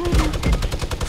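Rapid, continuous minigun fire in Fortnite, a fast rattling stream of shots running steadily through the whole moment, loud and close with no talking over it.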